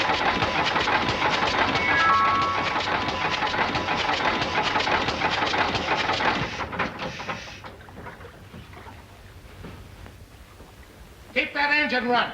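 A boat's engine runs at a steady loud chug for several seconds, then drops away to a quiet rumble before a brief burst of noise at the end.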